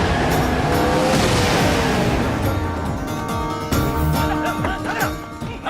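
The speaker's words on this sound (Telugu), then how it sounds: "రాజుగారి కారు వస్తుంది, వెళ్ళండి." A car's engine approaches and grows louder at close range, with a brief tire screech and scattered voices under a busy comic street scene.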